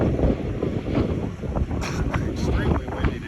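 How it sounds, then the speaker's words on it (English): Strong wind buffets the microphone in a steady low roar, with gusts rising and falling throughout. "Extremely windy today."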